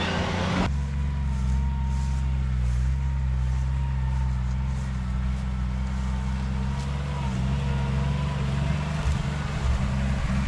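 A Jeep CJ7 Wrangler project engine idles steadily close by, a low continuous rumble with a slightly high, unsettled idle that runs throughout.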